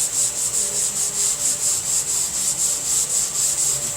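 A sanding block rubs back and forth across a muscle car body panel in a steady, even rhythm of about four strokes per second, close and loud, with no talking.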